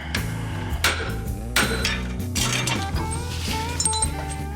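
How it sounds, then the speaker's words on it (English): A hammer taps a Jeep axle nut during an axle swap, making a series of sharp metallic clinks and knocks in an uneven rhythm, close and fairly loud, with no talking. "we are going to use the hammer and give this thing a little tap"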